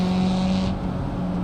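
Race-exhaust car in BeamNG.drive, its engine holding a steady, loud droning note with a buzzy tone that eases slightly partway through, no talking over it.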